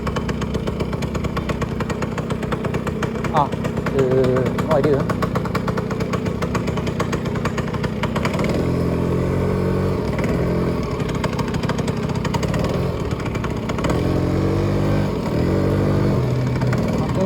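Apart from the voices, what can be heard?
motorcycle riding while looking for parking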